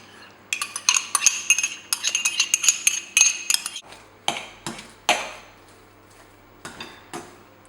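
A knife rapidly clinks and scrapes against a bowl while mixing yogurt and other ingredients, in a quick burst of bright metallic taps that slows to a few scattered clinks.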